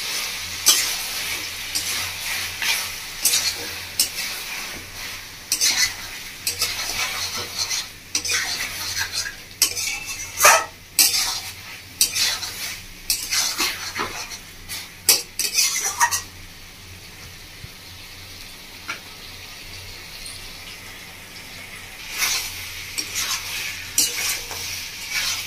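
Mutton masala is sautéed with ginger garlic paste in a pan, with a low sizzle and frequent bursts of metal spatula scraping and clanking, busiest in the first two-thirds and then quieter, close up with no talking.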